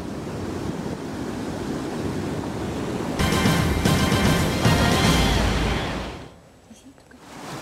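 Rushing water pours through an opened dam on the Aare river at Engehalde, Bern, a loud steady roar that swells midway, then briefly drops away before returning.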